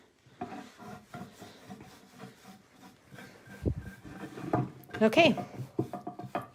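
Wax finish is rubbed onto furniture painted with chippy milk paint, heard as a series of soft, close scrubbing and rubbing strokes with a few woody knocks. A voice speaks briefly over them.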